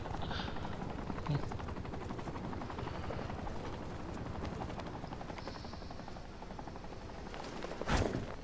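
A helicopter in the video game Batman: Arkham Knight, a continuous rotor thrum holding steady the whole time, with a brief sharp impact near the end.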